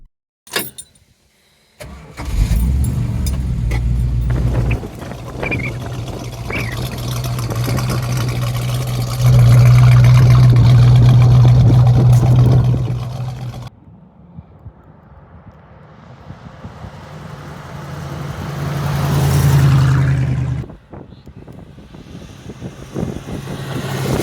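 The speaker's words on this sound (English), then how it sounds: "we fired up the Cuda and did our drive-bys for the outro videos" A 1974 Plymouth 'Cuda V8 starts with a sharp crank and settles into a loud, throaty rumble, then revs as it pulls away and drives past close by, fading before a second surge sweeps through, with no talking.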